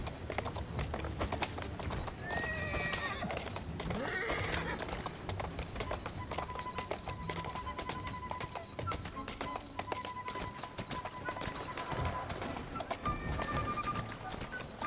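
Hooves from a horse-drawn carriage clatter in a steady, brisk clip-clop through Victorian London in Assassin's Creed Syndicate, along with an occasional whinny and rolling street noise, and voices talking over the steady rhythm.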